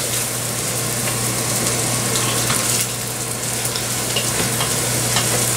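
Carbonara sauce is stirred in a hot pan, a dense continuous sizzle with steady mixing scrapes, close and fairly loud.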